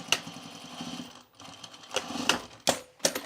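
Sewing machine running a 1/4 inch side seam on a pair of trousers, a steady mechanical whir broken by short pauses and a few sharper clicks, close by and moderately loud.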